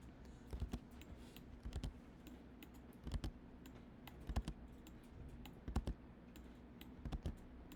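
A computer keyboard is pressed for an undo shortcut during animation work, giving faint, close clicks in small bursts of two or three keystrokes spaced about a second apart.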